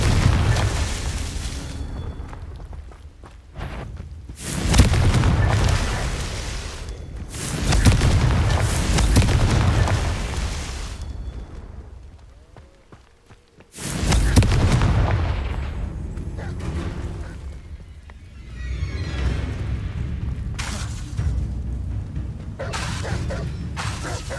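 Confringo explosion spells from the video game Hogwarts Legacy, heard as loud booming blasts with crackling debris. They come in several bursts separated by brief quieter gaps, with game combat effects in between.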